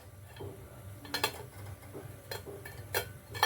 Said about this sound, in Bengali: এবার এখানে একটা স্ট্যান্ড বসিয়ে দেবো, আর এর ওপর এই টিফিন বক্সটা বসিয়ে দেবো